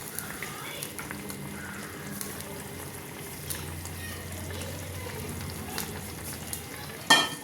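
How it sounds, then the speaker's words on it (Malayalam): A pan of dried fish curry gravy bubbles and sizzles steadily, thick liquid simmering with soft pops, followed by a sharp clatter at the end. "ചാറൊക്കെ നല്ല അടിപൊളിയായിട്ട് തിളച്ച്"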